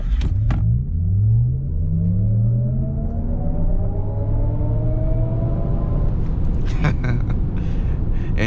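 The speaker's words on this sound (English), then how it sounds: "Now we do have to try a quick acceleration." A 2024 Cadillac Lyriq Sport AWD electric SUV accelerates hard from inside the cabin, with a rising motor whine climbing steadily in pitch over a steady rumble of road and wind noise, plus a couple of brief clicks.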